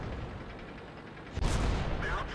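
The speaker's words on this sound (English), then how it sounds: "the rate of fire on this gun is so amazingly good that it doesn't matter if you bounce or you miss, you just keep shooting" One booming cannon shot from an M24 Chaffee light tank in World of Tanks, a sudden loud blast with a short rumbling decay over steady engine and battle noise.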